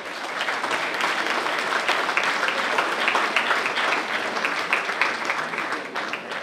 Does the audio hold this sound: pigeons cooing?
no